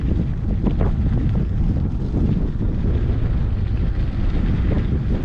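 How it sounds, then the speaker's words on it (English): Strong wind buffets the microphone in a constant low roar, steady for several seconds with no talking. "It's a windy day. We got the wind coming out of the south."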